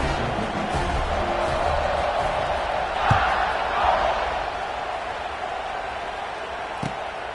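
In the College Football 26 video game, a stadium crowd keeps up a constant, loud roar and buzz, with a couple of brief swells.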